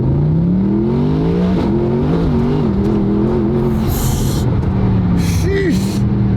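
A car engine revs and pulls hard, its pitch climbing and dipping through gear changes, loud and close, with brief exclamations over it.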